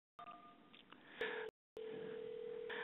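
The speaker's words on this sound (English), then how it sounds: "As you can see, the ringtone" An incoming service desk call rings through IT help desk software as a steady electronic telephone tone, broken by one short gap and then continuing, clear and alone.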